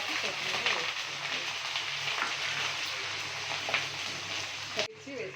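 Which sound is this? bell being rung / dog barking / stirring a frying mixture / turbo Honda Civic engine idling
stirring a frying mixture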